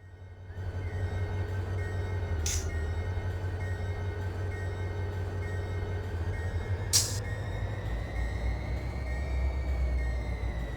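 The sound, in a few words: freight train in Run 8 train simulator video game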